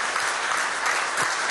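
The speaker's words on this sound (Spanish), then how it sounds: "pues un aplauso desde aquí" Steady, dense applause from a crowd at a Venezuelan government event, continuous throughout the short stretch.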